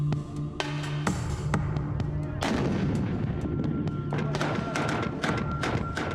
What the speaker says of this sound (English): These are pro-government forces firing on Houthi positions west of Marib in Yemen.